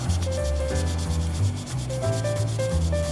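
800-grit sandpaper is rubbed back and forth over a 1/12 Tamiya Porsche 934 plastic model kit body. The close, steady scratchy strokes run continuously with small changes in pitch, and no voice is heard.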